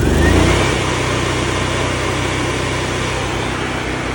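An SGBT 17000-watt three-phase generator engine idles steadily up close, a loud continuous rumble with a low harmonic hum and broadband mechanical noise, with no talking.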